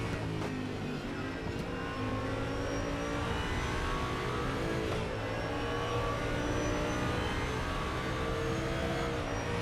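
Race cars, including a Callaway, circle Sepang in a racing video game, a steady high engine drone with layered whining tones and shifting pitch, continuous and fairly loud, without talk.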